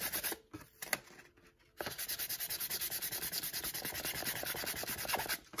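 Sandpaper scuffs an epoxy-coated tumbler in a fast, rhythmic back-and-forth rasp, close and fairly quiet, following a few short initial rubs.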